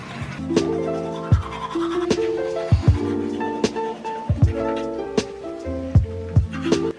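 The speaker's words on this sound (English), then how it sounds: "I'm gonna start brushing my teeth." A toothbrush scrubs teeth up close in quick back-and-forth strokes, a wet brushing rasp punctuated by sharp knocks and clicks, loud and with no talking.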